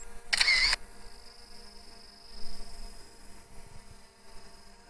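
An F11S 4K Pro drone's camera snaps a single short, bright shutter-like click near the start, followed by a steady high whine and faint outdoor background.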